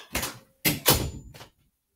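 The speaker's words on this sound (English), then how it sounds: "My brother just opened the door." An indoor door is opened, giving a quick burst of handle clatter, a louder scraping swing and a final short knock, all close and with no talk over it.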